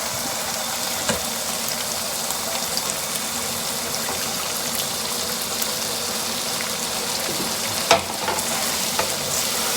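Chilli con carne mince being stirred with about two cups of water and chilli con carne spice in a hot pan, giving a steady, even sizzle and bubbling hiss with a few faint clinks, close and without talk.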